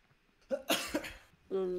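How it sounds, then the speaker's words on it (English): A single short cough close to the microphone, a harsh burst in a quiet room followed by a brief voiced sound. "That was a cough."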